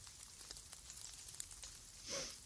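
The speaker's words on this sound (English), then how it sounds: "It's raining." Light rain falls in a faint, steady patter of scattered drops, with a brief louder swell near the end and no talking.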